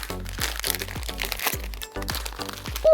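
A packet of mini biscuits being torn open, crackling and crinkling plastic in quick repeated crunches, close and fairly loud.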